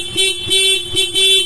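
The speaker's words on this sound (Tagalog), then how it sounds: "Ito po yung pinaka stock horn ni Sir." A car's stock horn sounding in three short, close, loud honks in quick, even succession.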